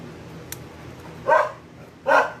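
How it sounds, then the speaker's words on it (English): A dog barks twice indoors, each bark short and fairly loud, about a second apart, after a small click. There is no talking. "Sorry about my dog."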